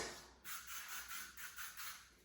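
Several short hissing bursts of aerosol hair spray follow one another in a quick rhythm, close and fairly quiet, during styling of a bob haircut.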